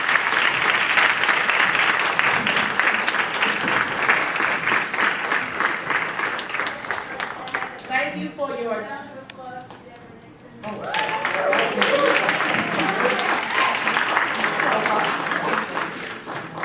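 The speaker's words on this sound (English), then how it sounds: "please join me in one last round of applause for these folks" Loud, sustained audience applause for presenters, dipping briefly while a voice speaks in the middle, then swelling back to full clapping until the end.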